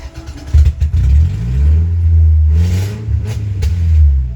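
A 2005 Toyota RAV4 with hard-starting and smoking problems revs up in a workshop, its engine rising and falling in a loud, uneven drone with some clattering, heard up close with no talk.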